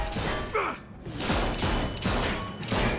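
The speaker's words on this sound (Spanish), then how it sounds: "Momento de tirar tiros." Gunfire in The Walking Dead: A New Frontier video game: several sharp bursts of shots in quick succession, mixed with thuds and other game sounds.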